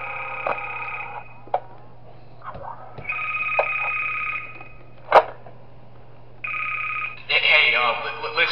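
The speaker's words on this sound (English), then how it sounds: "And we get a phone call." A telephone rings in the Five Nights at Darl's Remastered horror game, three long electronic ring bursts separated by pauses over a low steady hum, with a few sharp clicks between rings.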